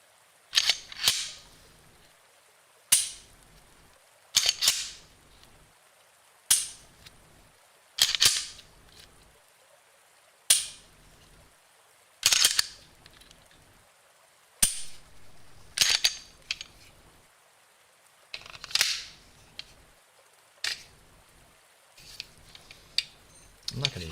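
Handgun dry fire clicks, sharp metallic snaps repeated at irregular intervals of a second or two, fairly close and crisp against a quiet room with faint sounds between them.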